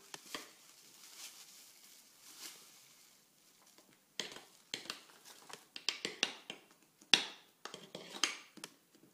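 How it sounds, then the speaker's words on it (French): A spoon stirs a coconut flan mixture of shredded coconut in a bowl, giving soft irregular scrapes and sharper clinking taps that start quiet and grow busier and louder in the second half. "Nous mélangeons à l'aide de notre cuillère."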